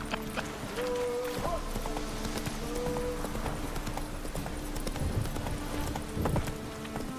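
Rhythmic hoofbeats of a horse galloping in The Witcher 3, with a whinny and some tonal game sounds and music layered over the steady clip-clop.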